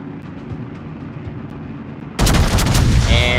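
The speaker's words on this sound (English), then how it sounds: "And another volley, but this time all 9 guns as opposed to just the front 6" A battleship's full nine-gun main battery volley fires in the naval video game World of Warships. A low, steady rumble suddenly gives way to a loud, sustained booming blast that stays heavy to the end.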